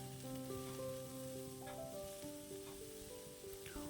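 Cabbage and curry leaves sizzle and are stirred in a hot pan for Onam sadya cabbage thoran, a steady frying hiss running under a prominent melodic music track with no talk.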